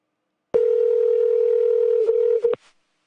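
A telephone line gives a steady, loud dial tone for about two seconds, followed by a couple of quick dialing beeps before it cuts off, with no talking.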